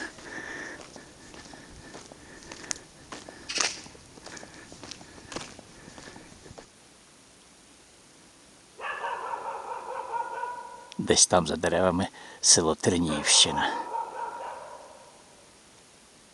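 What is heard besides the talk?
dogs barking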